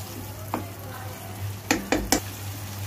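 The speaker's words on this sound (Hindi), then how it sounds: "और इसको मिक्स करके इसको भून लेंगे।" Minced meat stir-fried in a pan for mince pulao: a low steady background with a few sharp scraping stirs, three close together near the end, fairly near and moderately loud, no talking.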